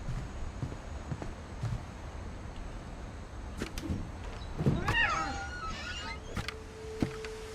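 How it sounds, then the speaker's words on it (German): A short, distinct cat meow in the video game What Remains of Edith Finch stands out faintly midway through a noisy, rumbling background with scattered clicks and a brief tonal beep near the end. "Ich höre hier eine Katze."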